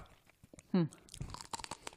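A crisp crunch as a crunchy yuba snack is bitten, followed by quieter crackly chewing close to the mic, with faint murmurs around it.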